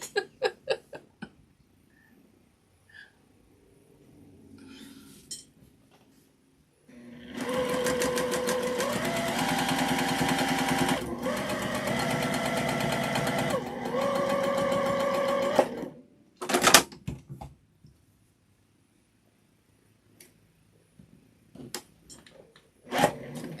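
A home sewing machine in a sewing room runs in a long, steady, close mechanical whir of stitching that changes speed partway through, bracketed by quieter handling clicks before and after.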